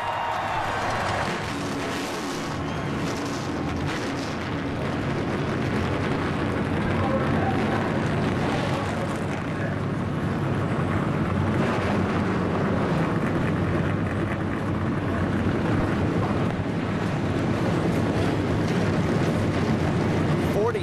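Stock race car engines at Memphis Motorsports Park during the 2008 Kroger 250, a dense, sustained roar of many motors starting and idling together, loud throughout, with crowd noise and a voice over a public address.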